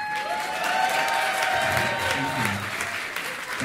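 Audience at a live podcast show applauds steadily with some cheering, a dense sustained clatter of clapping while a voice talks faintly underneath.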